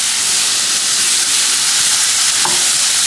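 Pork sizzles and fries steadily in a pan while being stirred, a loud continuous hiss with a brief scrape of the utensil near the end.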